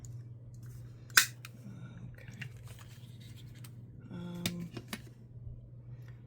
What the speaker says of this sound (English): let's cut a club out here.